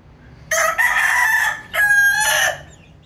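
A Maclean cross rooster crows loudly and close by, one long cock-a-doodle-doo broken into two strained bursts over a quiet background.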